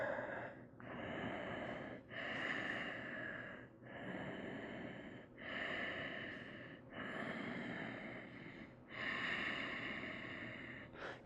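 Deep, rhythmic breaths from someone holding a standing separate-leg yoga pose, each long inhale and exhale repeating about every one and a half seconds, close and steady with no talking.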